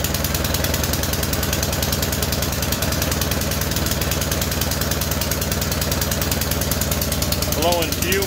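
A Troy-Bilt SNT2405 gas two-stage snow blower engine runs steadily nearby with a rapid, even, pulsing chug, and a voice is briefly heard near the end.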